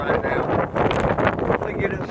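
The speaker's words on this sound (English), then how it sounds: "It's pretty good doggone breeze blowing out here right now." Strong gusting wind of a multi-day nor'easter storm buffets the microphone outdoors, a loud continuous roar with rising and falling gusts, and someone talks over it.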